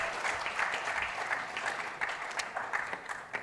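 An audience gives a professor a round of applause at an ICT innovation week session, a dense, even wash of many hands clapping at moderate distance throughout.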